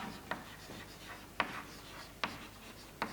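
Chalk or a marker writes on a board during a chemistry lesson, with faint rubbing strokes and four sharp taps spaced under a second apart. The sound is quiet, close and free of speech.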